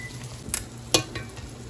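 Steak sizzles on a hot griddle with a soft steady hiss, broken by a couple of sharp pops and spatters.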